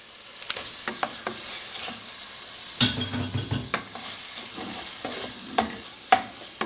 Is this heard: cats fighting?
no